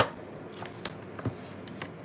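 Tarot cards being shuffled by hand, quiet brushing and several short crisp snaps at irregular intervals, close and faint with no voices.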